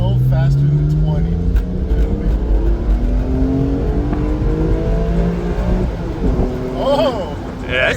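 A BMW E46 M3 accelerates through its gears, the engine note climbing and dropping again in several rising sweeps, loud and close from inside the car, with voices talking over it.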